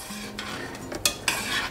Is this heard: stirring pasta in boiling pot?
yes